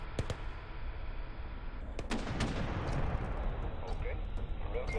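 Machine gun fire from the Command and Control 3 strategy game, with rapid bursts and heavier booming shots over a steady battle rumble and no break for the full stretch.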